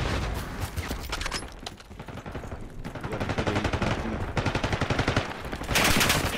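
Rapid automatic gunfire crackles through a Babylon beta firefight, dense bursts with several brief lulls and a louder volley at the end, no talking over it.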